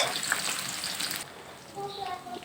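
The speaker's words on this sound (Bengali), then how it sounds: "ওই তেলে আমি দিয়ে দিলাম এক মতো পরিমাণের পেঁয়াজ" Sliced onions hit hot oil and sizzle loudly for about a second, then the frying settles into a quieter, softer hiss with a few faint clinks.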